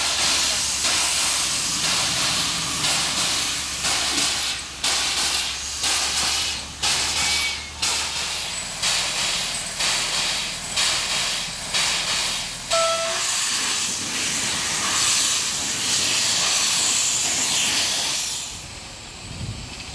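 Loud, continuous steam hiss from steam locomotives at the Saint-Valery depot during a steam festival, with broadband roar and repeated rhythmic chuffing bursts, mechanical clanks underneath, fading toward the end.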